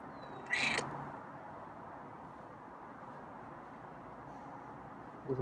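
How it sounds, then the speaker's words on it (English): A feral cat gives one short, raspy meow close by near the start, followed by quiet room tone. "There's a nice meowy purr."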